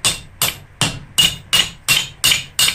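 Hammer blows on hot steel over a vertical bick while forging bolt jaw tongs, eight sharp ringing strikes in a steady even rhythm, loud and close with no talk.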